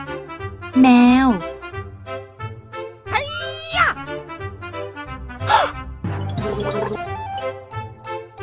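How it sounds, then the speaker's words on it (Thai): A cat meows several times, drawn-out and fairly loud, in separate calls spread across the span, with a child-like voice and other vocal sounds mixed between them. "แมว"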